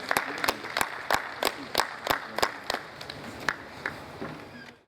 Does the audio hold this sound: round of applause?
yes